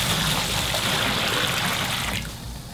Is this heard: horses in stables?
no